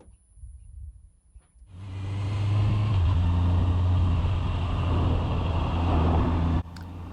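A 2024 Honda CB650R fitted with an E-clutch pulls away through town, its engine starting after a quiet moment and settling into a loud, steady rumble that rises in pitch as it accelerates before cutting off near the end.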